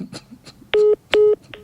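Phone keypad dialing tones as a call is placed, a few short dual-tone beeps followed by two longer steady tones, fairly close and loud with no talk over them.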